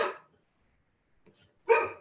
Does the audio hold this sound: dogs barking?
yes